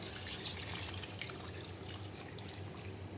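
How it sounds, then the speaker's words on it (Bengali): Water poured into a pan of chicken cooked with onions, a steady broad splashing pour that runs the whole time at moderate level, with no voices over it. "এখন আমি পরিমাণ মতো জল দিয়ে দেবো।"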